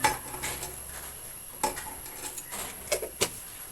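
A spoon stirs a thick chicken curry in a metal pot over a wood fire, giving scattered clanks and scrapes over a low background hiss.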